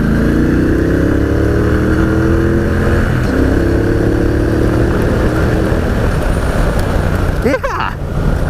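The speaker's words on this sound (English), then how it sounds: "So just have a little listen to this engine as I roll on now." A 2018 Triumph Speedmaster motorcycle engine revs steadily and climbs in pitch as the throttle rolls on, loud and close, with a brief rattle near the end.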